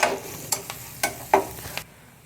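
Spatula stirring fried bitter gourd with onion and fresh green coriander in a pan, several distinct scraping strokes at a steady rhythm over a faint sizzle, close and clear, no talking.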